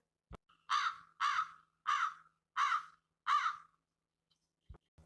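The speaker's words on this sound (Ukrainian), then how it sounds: "Ворона каркає" A crow caws five times in a steady, evenly spaced series, loud and close against silence, with a couple of soft knocks around it.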